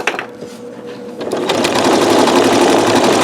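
A Janome MC9900 sewing machine stitches with metallic thread, starting quietly and then settling into a loud, rapid, continuous mechanical whir from about halfway, close and without speech.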